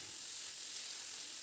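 Cauliflower and potato frying with spices and yogurt paste, a faint, steady hiss of sizzling oil with no voices.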